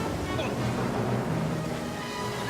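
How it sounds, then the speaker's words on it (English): Open-sea waves slap and surge around a swimmer in heavy clothing, a continuous close, rough wash of water with wind buffeting the microphone. "You can't really see where the waves are coming from."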